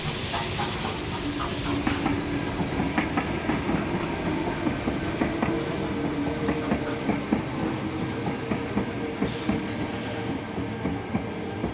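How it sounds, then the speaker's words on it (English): A heritage train in New South Wales rolls along steadily, with continuous rumble, hiss and rhythmic clicking of wheels over rail joints, loud and close for several seconds. "They will be slowing down to wait for a path back to Sydney."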